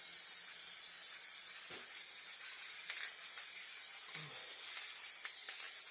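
White primer from a spray can hisses steadily onto the roof of a Citroen C4 Grand Picasso, a continuous close airy spray with a couple of brief thumps and shifts in the stream.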